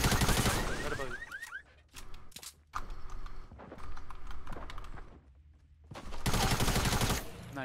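A shotgun fires in the Fortnite battle royale game, loud bursts of blasts and clattering impacts separated by short quieter gaps, mixed with chirping game effects and no talking.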